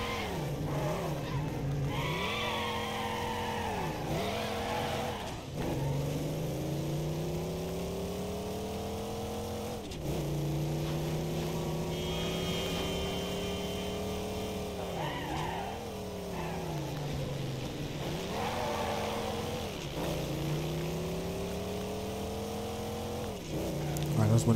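Muscle car engines race in Midnight Club, one close engine revving up and down through gear shifts with rising and falling pitch, joined by brief tire squeals across a long run.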